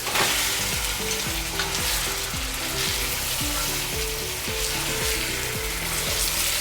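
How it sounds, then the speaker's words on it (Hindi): A whole chicken for biryani fries in a pot with a loud, dense, continuous sizzle, while a repeating rhythmic tonal pattern runs steadily underneath; no speech. "कि हमारी चिकन बिल्कुल इसमें भुन जाएगी"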